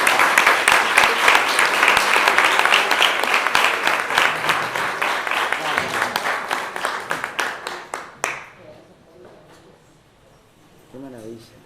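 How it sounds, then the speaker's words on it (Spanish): Audience at a literary talk applauding an artist, loud sustained clapping that gradually thins and fades after about eight seconds, followed by quiet and a brief voice. "Un aplauso para esta artista."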